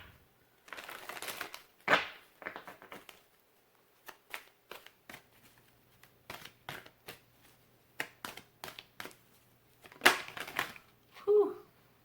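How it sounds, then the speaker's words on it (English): Guidance cards for a tarot reading are handled and shuffled close up, giving a run of soft papery riffles and flicks in irregular bursts, with a few sharper slaps and brief pauses between. "We will pull out the guidance cards."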